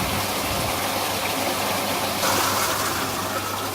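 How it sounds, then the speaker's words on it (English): Fast water rushes steadily down a hydraulic flume channel, a loud continuous broadband gush and splash that holds even throughout, with no talking. "As you can see at the moment, the flow is travelling fairly fast down this channel."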